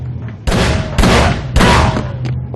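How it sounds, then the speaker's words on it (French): Three loud gunshots in the video game Call of Cthulhu, evenly spaced, each a sharp blast with a short decaying tail over a low hum. "Des coups de feu."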